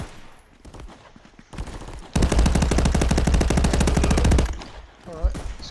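Automatic gunfire rings out in the VR shooter Contractors, a loud sustained burst of rapid rattling shots lasting a couple of seconds, preceded and followed by quieter game ambience and faint voices.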